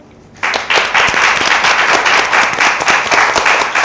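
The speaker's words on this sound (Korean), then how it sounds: "큰 박수 부탁드릴게요." Hall applause begins after a brief quiet moment as an audience welcomes a company CEO to speak at a workshop, a crowd clapping loudly and steadily with distinct individual claps.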